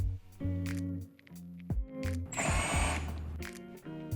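Power tool tightening the retained hardware on a Club Car Tempo/Precedent golf cart dash brow, with a steady motor whine that rises in short bursts and a brief louder buzzy stretch near the middle.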